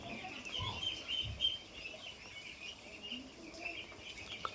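Khaki Campbell ducklings, eighteen days old, calling after a heavy storm, faint repeated chirpy peeps and clucks at moderate distance over a steady background hiss.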